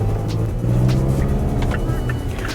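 Mazda CX-5 SUV on the move, a steady low engine and road rumble with light rushing noise, continuous and close, no talk.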